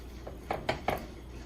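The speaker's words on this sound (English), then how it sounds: "So my stove is on, so we're just gonna flip these guys" Baked BBQ chicken pieces flipped in a pan on a stovetop, three quick metallic clinks of utensil against the pan in close succession, fairly quiet over a faint background hum.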